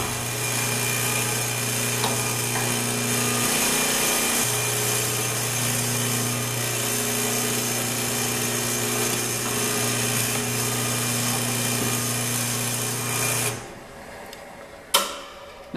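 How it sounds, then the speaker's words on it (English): An electric drill with a 3/16 inch bit whines steadily at close range drilling holes in an aluminum robot chassis for a long stretch, then stops, followed by a few brief clatters. "I want to drill out those 3/16 inch holes"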